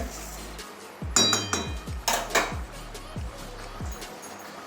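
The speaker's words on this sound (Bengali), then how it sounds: "এবারে ঢাকনাটা খুলছি" A metal lid comes off a pot of boiled dal with a few sharp clinks and rattles, close and fairly quiet, followed by light scraping clatter.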